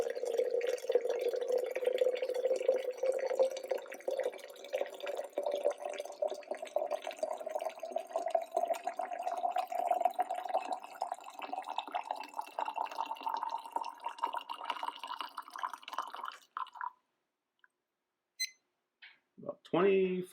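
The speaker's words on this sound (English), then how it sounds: "About 25 seconds to dump that water." Water pours in a steady, close stream from an OXO electric gooseneck kettle for about seventeen seconds, its pitch rising as the vessel fills, then it cuts off, leaving a few faint drips and small clinks.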